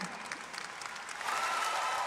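Home crowd at the London E-Prix, a Formula E race, applauding driver Oliver Rowland: sustained clapping and cheering from a large distant crowd that swells louder halfway through.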